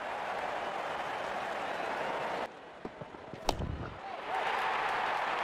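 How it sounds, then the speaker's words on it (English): A stadium crowd in the cricket video game Real Cricket 24 applauds with a dense wash of clapping for a batsman's fifty, loud for a couple of seconds and then dropping away before swelling again briefly. "Wonderful 50 and the crowd applauds."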